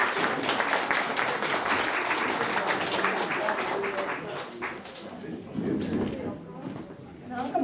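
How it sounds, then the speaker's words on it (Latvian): Applause at a church graduation ceremony for a course, steady dense clapping from a crowd that holds strong for several seconds, then thins and fades toward the end. "Aplausīt."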